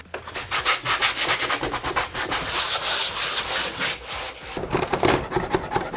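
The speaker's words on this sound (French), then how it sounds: "on va poncer pour que ce soit juste lisse" Wood being sanded smooth by hand, a loud, close scratchy rubbing in quick back-and-forth strokes that keeps a steady rhythm for several seconds, with no talk over it.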